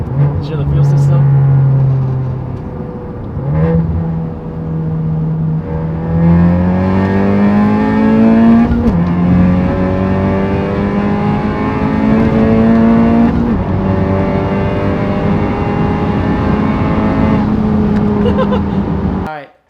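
A Honda Civic Type R FK8 fitted with a J's Racing grill makes a full-throttle pull. The loud, close engine note rises repeatedly, with pitch drops at each of several gear shifts, before cutting off abruptly at the end.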